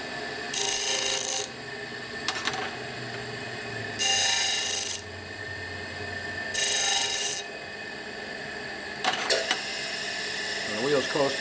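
Bench grinding wheel on a 1949 Harley-Davidson panhead 74ci FL project, a loud rasping grind applied in several short bursts against a part, with a steady motor whir between bursts.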